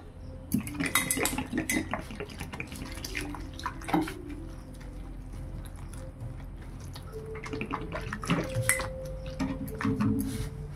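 Flour and salt being mixed with water into a thin batter for patishapta pitha, with steady clinking and scraping against a bowl, wet sloshing, and occasional sharper knocks throughout.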